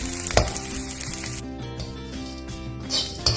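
Garlic frying in oil in a pan while making curry leaf powder, a dense continuous crackling sizzle with a sharp knock near the start, close and fairly loud, with a low tonal hum running underneath.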